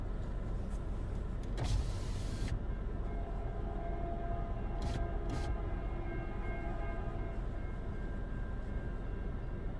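A CN southbound freight train passes a level crossing at Ladysmith, a steady rumbling roar with wheel and engine noise throughout, a brief loud hiss early on and two short bursts mid-clip, with no talking.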